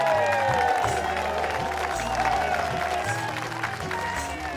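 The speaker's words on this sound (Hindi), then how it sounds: "अब वो लोग जोर से ताली बजा के पहलवान लोग के स्वागत करी।" Crowd applauding loudly to welcome wrestlers after a final at a wrestling competition, steady dense clapping with a faint cheer, heard over music throughout.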